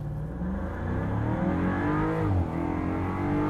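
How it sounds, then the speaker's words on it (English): A 2023 Land Rover Defender 90 with a supercharged V8 accelerates hard on launch control, its engine droning and rising steadily in pitch as it pulls through the revs, close and sustained with no talking. "23 Defender V8 with launch control."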